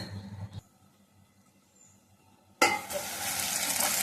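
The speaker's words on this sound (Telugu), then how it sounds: "మనకి ఉల్లిపాయ అయితే వేగిపోయింది." Onions fry in a pan for a fish curry: after a brief clatter and a quiet gap, a loud, steady sizzle bursts in and carries on to the end.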